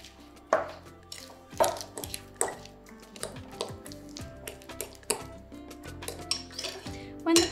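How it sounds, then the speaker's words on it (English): Banana and sugar mashed in a bowl, with irregular clinks and scraping knocks of a utensil against the dish, fairly quiet and close, without talk. "get your banana, add the sugar to the bowl, okay? And then mash it together"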